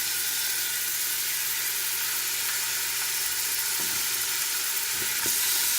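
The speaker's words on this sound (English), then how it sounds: "you want to fry this until the onions are pretty much translucent" Onions, hot peppers and garlic fry in a pot for a vegan chickpea and lentil stew, giving an even, close sizzle that runs unbroken throughout, with a few soft knocks near the end and no speech.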